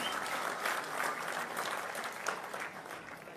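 An audience claps steadily in the Tummalapalli Kalakshetram auditorium during a state minority welfare day event, a dense, sustained round of applause from a large crowd filling the hall at even loudness.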